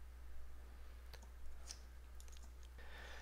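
A few faint, sparse computer mouse clicks tap out in a quiet room, soft and isolated.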